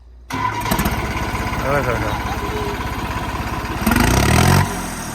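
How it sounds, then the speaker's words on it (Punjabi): An engine cranks and catches, settling into a steady low rumble with a brief louder rev near the end, while people talk over it. "starting tractor the"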